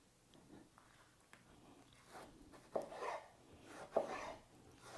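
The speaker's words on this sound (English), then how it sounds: "Cut into 4. Cut into squares." A kitchen knife slicing fresh tomatoes into squares on a board for a sweet and spicy tomato chutney, with two distinct crisp cuts standing out over quieter, softer slicing and handling.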